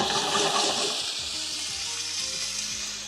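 Salmon cubes sautéing in hot oil in a pan, a loud, steady sizzle and crackle that is strongest at the start and eases slightly, with no talking.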